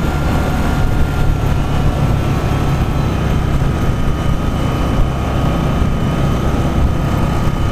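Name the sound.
Victory Octane motorcycle engine during demo ride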